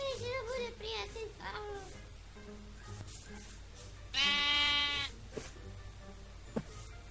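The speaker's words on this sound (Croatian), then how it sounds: "O, mister Ovca" Sheep bleating in Grand Theft Auto V, a loud quavering bleat cutting in briefly among other game sounds and background noise, with a second sharp blip shortly after.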